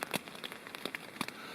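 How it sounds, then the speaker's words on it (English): Light rain patters on a forest campsite in Nantahala National Forest, scattered soft drips and crackling taps spread irregularly across a quiet, faint background. "you can hear the rain coming down a little now"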